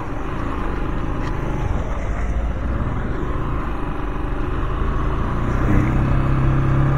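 A motorcycle cruises on a long road ride from Davao to Cateel, Davao Oriental, its engine a steady loud rumble mixed with heavy wind noise, continuous throughout with no speech.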